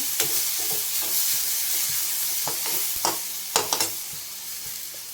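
Dal sautéed in a hot pan for methi dal, a steady bright sizzle and hiss with a few sharp scrapes and knocks of the spoon against the pan toward the end, close and without voices.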